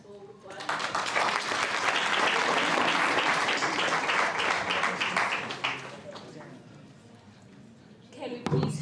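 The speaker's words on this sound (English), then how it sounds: "Can you please clap hands for group one?" An audience claps for a student group after its presentation at a university entrepreneurship week event, a dense burst of applause lasting about five seconds that gradually thins out. Faint voices follow, then a brief final flurry.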